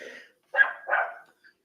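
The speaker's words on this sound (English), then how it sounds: "Why the fuck that dog barking?" Dog barking, two short close barks in quick succession with a faint yip after, heard alone in quiet.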